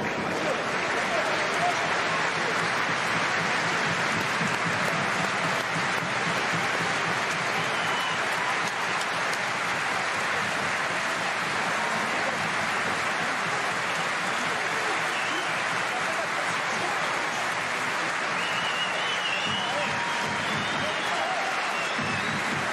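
A rugby stadium crowd at a Top 14 match applauds steadily for an injured player leaving the field, a sustained wash of clapping and cheering with a commentator talking over it.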